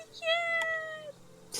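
A young cat named Stormy gives one clear, drawn-out meow close by, rising then gliding down, followed by a brief faint sound.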